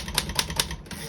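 A 1933 Royal 10 antique desktop typewriter typing a quick run of about five evenly spaced key strikes, close and clear over a low background hum.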